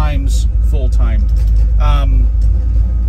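A 1967 Pontiac Firebird engine idles close by with a loud, steady low rumble that runs throughout, while someone talks over it.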